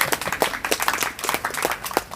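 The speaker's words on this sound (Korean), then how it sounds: "우리 하나님께 영광의 박수로 올려드리겠습니다." A church congregation claps in a Korean worship service, a run of sharp, uneven hand claps with a loose rhythm, close and fairly loud, with no talk.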